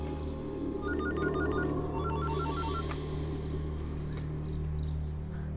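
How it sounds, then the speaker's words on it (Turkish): A telephone rings in a Turkish TV drama scene, with two short bursts of repeated electronic ringtone chirps over steady background music. "Oğlum şu telefonu aç."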